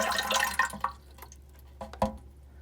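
Leftover water poured from a pet's container, a short splashing trickle that tapers into a few separate drips and small liquid splashes.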